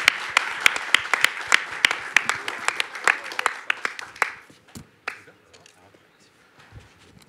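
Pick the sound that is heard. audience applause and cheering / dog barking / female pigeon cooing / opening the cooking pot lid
audience applause and cheering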